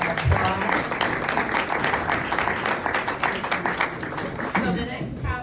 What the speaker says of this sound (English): Can we give him a warm round of applause?